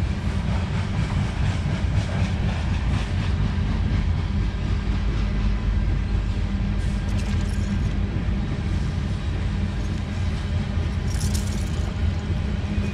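A train rumbles steadily past close by near the river at Cascade Locks, a loud continuous low roar with faint rattling of the cars throughout, no speech.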